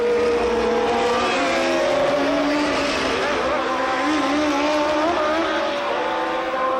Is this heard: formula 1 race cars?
yes